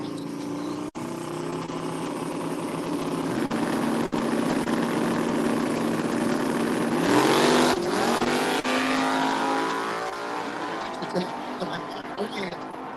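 Drag racing cars, a Ford Mustang in the left lane against a rival, roar loudly down the strip, building to a peak as they pass close by, then fading into distant engine drone.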